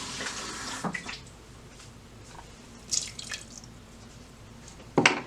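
A quarter cup of water splashes into a pot holding sugar and corn syrup for candy grapes, heard as a few short, close pours and drips spaced over several seconds in a quiet kitchen.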